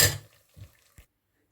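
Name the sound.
semolina halwa being transferred from pan into a bowl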